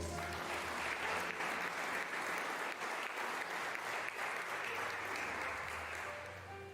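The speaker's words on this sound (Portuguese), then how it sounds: "Você pode aplaudir o Senhor?" A church congregation applauds in worship, a continuous roll of many clapping hands, moderately distant and soft, tapering slightly at the end with no speech over it.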